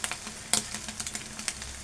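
Egg frying in a hot pan with turmeric and salt, a steady close sizzle with small crackling pops and stirring scrapes throughout, no talking.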